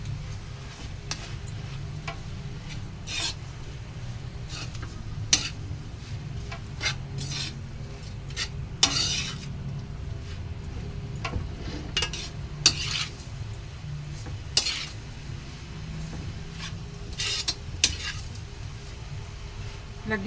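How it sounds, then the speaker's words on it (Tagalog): Menudillo with pepper, egg and pineapple tidbits sizzles steadily in a pan while a utensil stirs it, with repeated scraping clinks scattered irregularly through about twenty seconds of constant frying. "Haluin."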